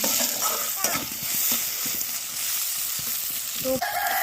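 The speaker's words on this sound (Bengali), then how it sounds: "পেঁয়াজগুলো একটু ভাজা হয়ে আসছে" Onions fry in a pan with a soft, continuous sizzle, broken by scattered small clicks and taps from cooking. The sound is close but fairly quiet, with no voices.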